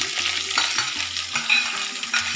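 Carrots go into cauliflower frying in a pan for a mixed-vegetable navaratna dish and are stirred, giving a continuous close sizzle with several distinct spatula scrapes and knocks at an uneven pace and no talking.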